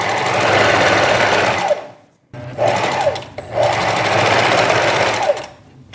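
A domestic sewing machine stitches a knit jacket seam in close, loud, rapid runs: a long burst, a brief stop, then two more stretches of stitching.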